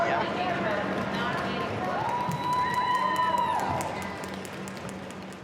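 Crowd at a junior roller derby match cheering and applauding as a skater gets up from the track, a dense mix of voices and clapping with a rising whistle-like cry, fairly loud and close.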